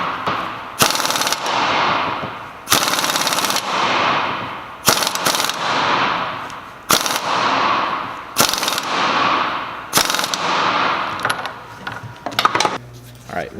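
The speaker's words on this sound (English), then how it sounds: "we're going to keep hitting it with the impact and checking for end flow until we're at 0 lash" An impact wrench tightens the pinion nut on a Salisbury differential being rebuilt with a Dana 44 carrier for an ERA Cobra, firing in about eight loud, close rattling bursts separated by short pauses.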